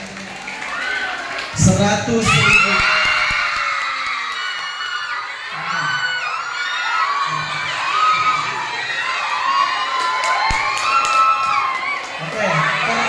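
Audience at a Maulid Nabi celebration cheering and shouting, many children's voices yelling and whooping over continuous crowd noise, with a loud burst near the start and someone speaking briefly over the crowd.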